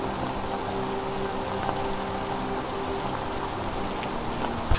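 Monsoon rain falls steadily in the Western Ghats near a temple, an unbroken close hiss of drops on surfaces with a low hum underneath and a brief knock at the end.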